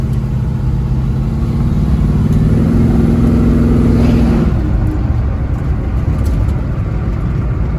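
A tuned 1968 Camaro protouring car drives past with a loud, steady mid-pitched engine drone that rises in pitch as it accelerates over the first few seconds, then settles into a rougher rumble with road noise.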